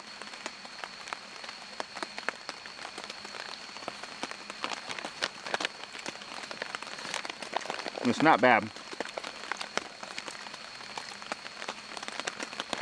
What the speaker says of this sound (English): The rain's picking back up too.